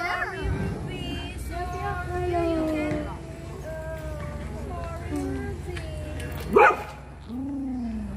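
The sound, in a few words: dog barking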